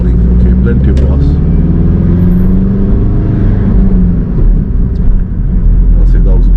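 Car engine pulling away and accelerating during a hill start on a driving lesson, a steady loud low drone rising gently in pitch, heard from inside the car with people talking over it.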